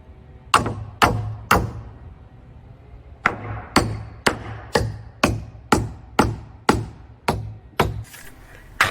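Nails being hammered into wooden shed trusses: three sharp blows, a short pause, then a steady run of about a dozen evenly spaced, ringing strikes close by.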